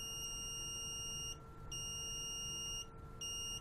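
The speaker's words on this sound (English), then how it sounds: "if I press the buzzer" A loud electronic buzzer on an Arduino project board, fitted with a cover, sounds three times in a row, a steady high-pitched tone with short gaps between buzzes.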